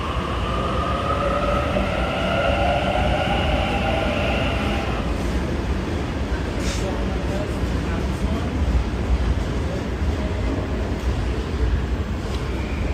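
A Sydney commuter train rumbles steadily at close range with broadband rolling noise and a brief high squeal, while voices murmur in the background of a busy station platform.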